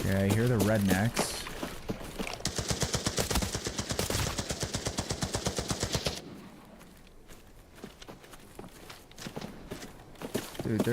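Rapid automatic gunfire in the video game Arena Breakout: Infinite, a long steady burst of evenly spaced shots for several seconds, followed by quieter scattered sounds and a voice talking.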